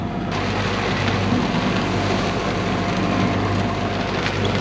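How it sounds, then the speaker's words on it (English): Rain and wind hit a sailboat on open water at sea, a dense, steady roar and hiss of rainfall and gusts that holds constant throughout with no voices. "Raining and blowing now."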